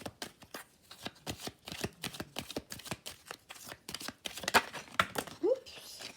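Tarot cards riffle and snap in a rapid run of crisp shuffling bursts, close and fairly quiet, with a few cards slapping down near the end; brief vocal sounds are faintly present.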